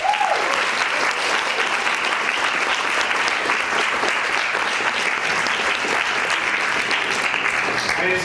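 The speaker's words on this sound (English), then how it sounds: "Can you give them a big round of applause, please?" Sustained audience applause for a youth panel at a conference, a thick, even roar of many people clapping that starts right away and holds at full strength throughout, with a brief voice at the very start.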